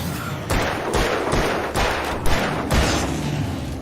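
Rapid video-game gunfire in a firefight against endlessly spawning enemies, with bursts of shots cutting in every half second or so, loud and close, with no talking.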